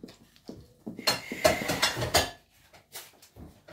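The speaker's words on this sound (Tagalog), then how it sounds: "Ngayon, tapos na magugas ng pinggan." Dishes being washed and handled: plates and cutlery clink and clatter in short irregular bursts, close and moderately loud, with no talking.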